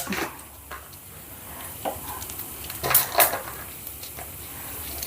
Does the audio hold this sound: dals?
yes